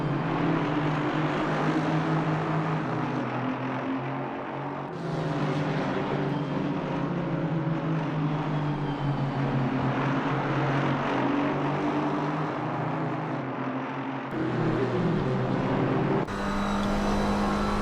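Several GT4 race cars, including two Aston Martins, racing at Watkins Glen: sustained, loud engine drone with shifting tonal pitch as cars pass and change gears, no talk over it.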